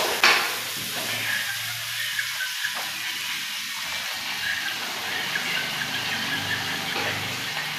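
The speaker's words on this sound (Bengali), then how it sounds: "এখন মরিচ পেঁয়াজ কষাইতেছে। মরিচ পেঁয়াজগুলো সুন্দর করে ভেজে নিতে হইব।" Chillies and onions frying in oil in a pan hiss with a steady sizzle, broken by scraping stirs of a spoon, close and fairly quiet, with no talk over it.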